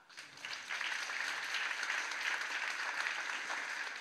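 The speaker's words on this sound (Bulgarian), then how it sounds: "Моля за аплодисменти за всички тях." A ceremony audience applauds the nominees of an award event: dense, even clapping that swells quickly and holds steady throughout, fairly loud and close.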